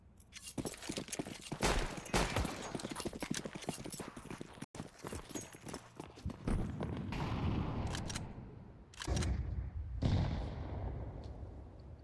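Rapid pistol fire, including Desert Eagle shots, crackles through a professional Counter-Strike esports match in North America, dense clusters of sharp reports with a brief pause midway and further bursts toward the end.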